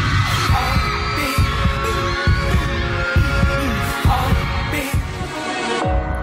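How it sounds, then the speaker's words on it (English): Heavy, throbbing heartbeat effect opening a K-pop song intro, steady deep thumps pulsing under a dense, loud wash of synth music, with no voices. "Can you feel my heartbeat?"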